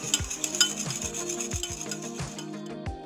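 Low carb dalgona coffee is whisked by hand until frothy, a quick repeated scraping and tapping of whisk against bowl in a steady close rhythm.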